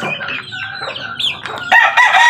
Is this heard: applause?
no